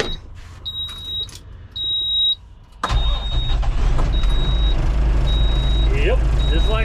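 An engine left unused for a couple of months cranks and catches, settling into a loud steady idle after a few seconds, with beeping chimes and someone talking over it.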